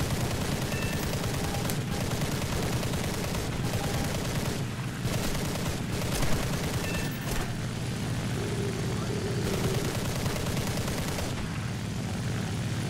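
Aircraft machine guns firing in War Thunder from a Ki-43-III fighter, a dense, steady stream of rapid shots over engine drone, with brief gaps between bursts and no talk.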